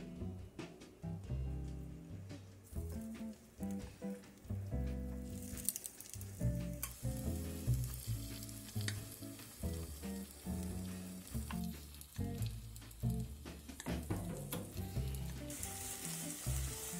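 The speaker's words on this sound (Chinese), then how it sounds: "鱼一块块在油里翻个面，变色就可以" Pieces of fish frying in a little oil in a pan for a home-style fish stir fry, a steady loud sizzle with bursts of crackle and stirring throughout, no talk.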